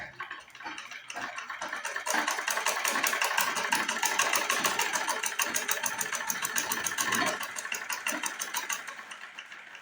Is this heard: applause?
no